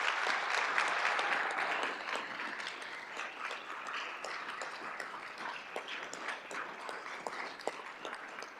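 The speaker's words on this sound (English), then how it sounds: "So let's give them a round of applause." An audience at a school district governing board meeting gives a round of applause, dense clapping that is loudest at the start and then holds steady for several seconds.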